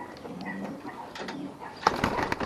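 Pigeons coo softly inside a loft, a few low murmuring calls, with a louder burst of rustling or a wing flutter near the end, close by and without speech.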